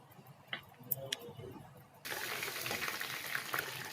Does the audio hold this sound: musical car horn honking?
no